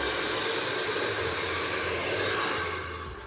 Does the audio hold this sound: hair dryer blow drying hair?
yes